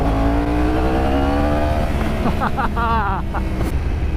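A 2016 Yamaha R1 motorcycle engine drones loudly and continuously at steady revs, with a brief rising throttle blip near the end and possible faint voice underneath.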